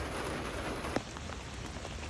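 Steady rain patters on garden plants and pots in a pouring downpour, a dense close hiss with one sharper drip or tap near the middle.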